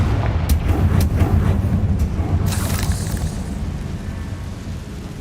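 A Confringo fire spell explodes in the Hogwarts Legacy video game, giving a loud booming burst with a few sharp cracks, then a fiery whoosh that slowly dies away, with no voices.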